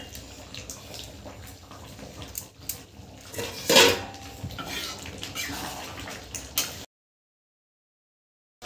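A spoon clinks and scrapes against a pan as butter chicken is stirred, close and intermittent, with one louder clatter midway before the sound cuts off.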